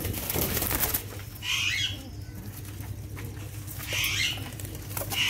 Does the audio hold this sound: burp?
no